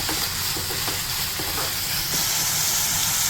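Red bean curry ingredients sizzle and hiss steadily in a hot pan while being stirred and fried, a loud, continuous frying noise with faint scraping knocks and no talking.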